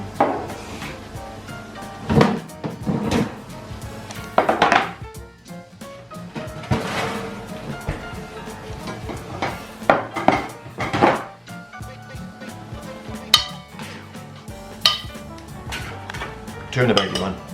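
Dishes and metal pans clatter and clink as a baked meatball dish comes out of the oven, with scattered knocks, a door-like thud and sharp bangs spread irregularly at moderate volume.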